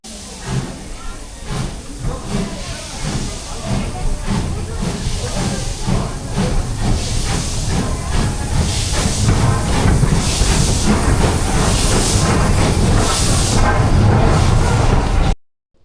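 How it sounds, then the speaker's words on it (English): A steam locomotive passes near Swanage in Dorset, giving a loud, continuous hissing rumble with rhythmic chuffing texture that holds steady for about fifteen seconds before cutting off abruptly. "let me know in the comments if you recognise the loco in the background"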